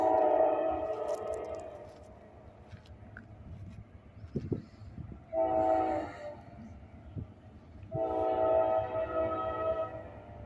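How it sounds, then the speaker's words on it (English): Canadian Pacific locomotive train at a railroad crossing, its horn sounding in three long blasts separated by pauses, moderately distant over a low rumbling background. "Over there's a Canadian Pacific locomotive waiting for NS to pick it up."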